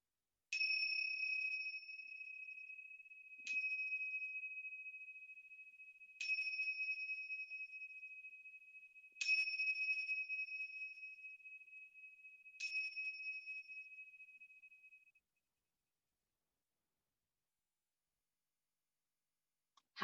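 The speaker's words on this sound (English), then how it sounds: "Getting ready for our yoga bell." A yoga bell struck five times at a slow, even pace, each clear metallic ring sustaining and fading in a quiet room before falling silent.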